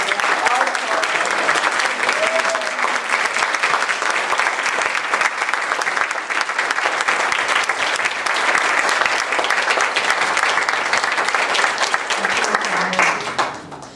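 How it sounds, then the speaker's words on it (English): A big round of sustained applause from an audience at a Buddhist talk, steady and dense for the whole stretch before tapering slightly at the end. "Let's give him a really big round of applause."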